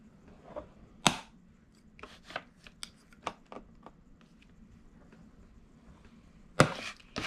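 Vinyl being scored with a tool on a scoreboard while making a tote, a series of sharp, quiet scratchy strokes spaced irregularly, with two louder swipes near the start and end.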